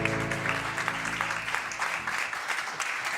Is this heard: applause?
yes